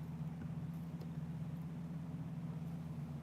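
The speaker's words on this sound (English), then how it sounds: "But this truck's out here rumbling and he's gonna take off synced." A truck idles outside on a street, a steady low rumbling drone heard from a distance, fairly faint and unchanging throughout.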